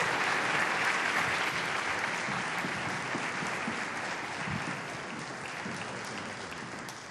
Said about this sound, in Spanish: vamos a recibir con un fortísimo aplauso otra vez en este escenario